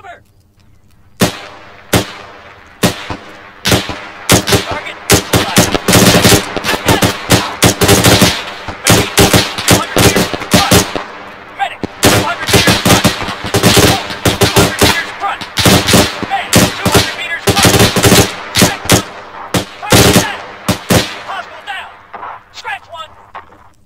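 Rapid bursts of video game gunfire from a sniper weapons squad, loud and sustained, with dense overlapping volleys over roughly twenty seconds and shouted squad commands mixed in.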